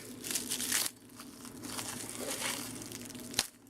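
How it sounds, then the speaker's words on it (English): Plastic bags crinkle and rustle as they are opened while unboxing a Figma figure, in close, bursty crackles with a quieter stretch and a sharp final crunch. "Lots and lots of plastic bags."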